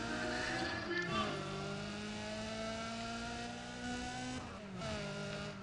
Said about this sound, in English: Man, will you listen to the engine, people?